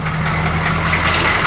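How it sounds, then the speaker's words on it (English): A V8 Ford Expedition with leaky exhaust manifolds idles close by, giving a steady, loud low rumble with a constant hum and no speech. "V8 Expedition, leaky exhaust manifolds,"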